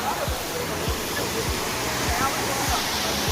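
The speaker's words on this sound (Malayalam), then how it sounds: "ഇതാ ഈ കാണുന്നതാണ് വെള്ളച്ചാട്ടം" Steady roar of a forest waterfall, a dense broadband rush of falling water that stays constant throughout, with faint low thumps underneath.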